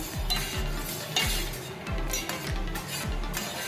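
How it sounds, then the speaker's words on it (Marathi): A spoon stirs tamarind-jaggery toor dal amti in a pot after hot water is added. It makes rhythmic scraping strokes with light metallic clinks about every half second, close and alone. "थोडं आपण गरम पाणी घालूया आणि परत आपण आमटी मिक्स करून घेऊया"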